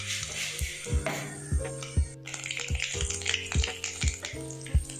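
Mustard seeds spluttering in hot oil while the masala dosa filling is started, giving sharp irregular crackling pops over a steady tonal background hum.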